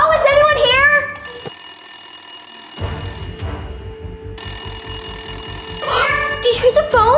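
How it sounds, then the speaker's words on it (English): A telephone rings in long electronic trills with a pause between rings, loud and close, while children's voices talk at the start and end. "Did you hear the phone? I heard something ring."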